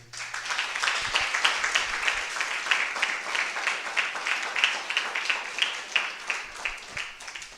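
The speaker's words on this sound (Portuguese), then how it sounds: "Pode aplaudir essa palavra." A church congregation at a charismatic evening Mass applauds after a scripture reading, a dense, sustained patter of many hands clapping at an even level, a brief low hum at the start.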